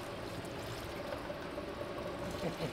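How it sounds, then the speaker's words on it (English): Fuel pours from a bucket during work on a 1964 Dodge 440 project car, a steady, low, continuous gush of liquid heard close and fairly quiet, with no speech over it. "I'm pouring out of a bucket here, champ."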